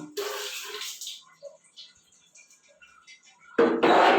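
Water splashes over a part of a water purifier filter as it is rinsed by hand, a burst of running water at the start, then quiet drips and small knocks, and a loud rush of water returning near the end.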